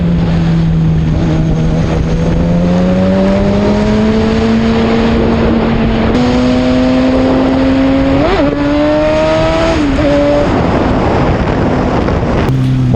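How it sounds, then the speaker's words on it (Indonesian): Kawasaki ZX6R motorcycle engine warming up and revving at night in Makassar, a loud, close, sustained engine tone that climbs gradually with two sharp throttle blips near the end, over steady wind noise. "agar bisa lebih fokus panasin motor ini"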